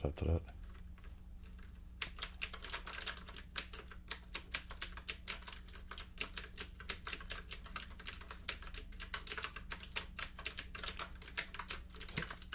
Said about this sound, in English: So how's the keyboard sounds?